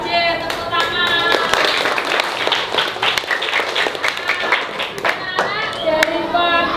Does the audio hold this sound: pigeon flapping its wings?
no